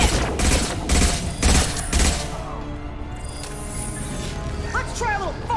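Bursts of rapid gunfire in the video game Mass Effect 2 (Legendary Edition), several loud close volleys in quick rhythm, then a calmer stretch of game ambience with a few short electronic chirps, with a voice speaking over the action.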